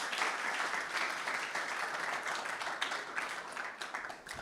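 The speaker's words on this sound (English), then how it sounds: "please give a round of applause." Continuous applause from an audience after a talk at a computer security presentation, heard as steady, rather faint clapping that lasts several seconds.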